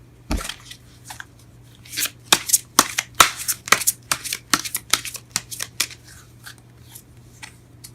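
A deck of tarot cards is shuffled close up, a run of crisp riffling bursts and flicks repeating irregularly for several seconds, with a low steady hum underneath and no talking.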